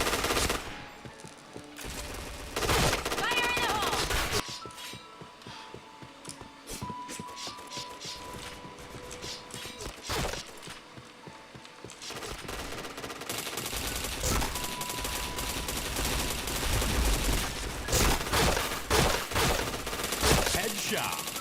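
Video game gunfire, long rattling bursts of rapid automatic shots broken by short pauses, loud and dense across the stretch, with faint voices briefly under the shooting.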